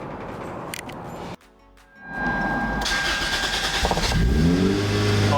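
Toyota MR2 Turbo with a new exhaust starting up and revving: a brief pause, then the engine catches and rises to a loud, steady rumbling roar with rising revs near the end, close by, without talking.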